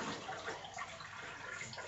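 Glucose-fructose syrup is poured from a container in a continuous, steady liquid stream, making an even rushing noise for a yeast-based home distilling mash.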